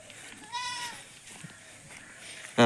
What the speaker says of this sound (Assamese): এইটো আছে আমাৰ পুষ্পা, দেখিছানে ছাগলীটোৰ লগত কি কৰি আছে?